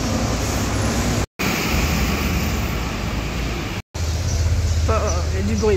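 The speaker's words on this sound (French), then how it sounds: "Il y a du bruit partout, les voitures, les camions, les motos, les klaxons." City traffic noise near the port of Piraeus in Greece, with cars, trucks, motorbikes and horns, forms a dense, continuous roar. A person talks over it.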